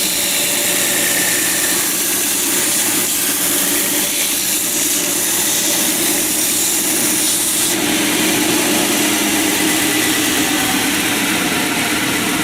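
A power sander runs steadily at full speed on wood, a loud continuous motor whir and grinding hiss that holds level throughout with no pauses.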